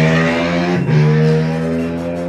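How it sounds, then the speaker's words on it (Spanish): A motorcycle passes close by outdoors, its loud, steady engine drone running throughout with a brief dip and shift in pitch midway as it goes past. "está el de la moto. De verdad, tío, suena como si estuviese pasando por aquí delante de mí"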